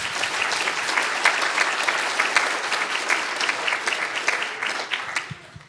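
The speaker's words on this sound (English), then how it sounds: "Yes, round of applause." An assembly gives a round of applause, many hands clapping in a dense, steady wash that holds at full strength and then fades away at the end.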